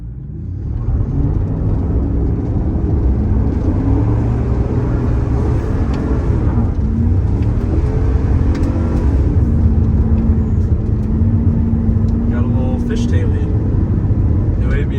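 Loud, continuous engine rumble and road roar from inside an old two-wheel drive work truck driving over a rough dirt road, with a voice speaking over the drone.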